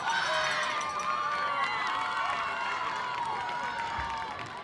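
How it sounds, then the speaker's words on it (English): Crowd applause and cheering at a high school football game at Westwood, honoring the Westwood band and color guard, a dense wash of clapping and shouts from the stands that fades slightly toward the end. "Let's a round of applause to the Westwood band"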